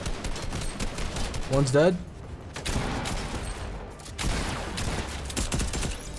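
Rapid bursts of gunfire in the Fortnite video game, dense and loud throughout, with someone briefly talking.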